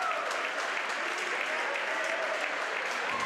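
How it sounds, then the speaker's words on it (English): Home crowd cheering and applauding at a high school wrestling playoff match in a gym, a dense continuous roar of clapping and voices, steady and loud. "these last two bouts have gotten the home crowd going"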